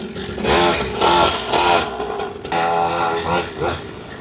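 A motorcycle engine fires up and revs hard in several loud, close bursts, rising and falling with brief dips between throttle blips.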